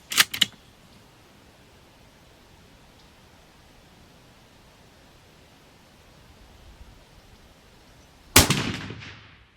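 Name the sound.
gunshot from a .308 Outlier rifle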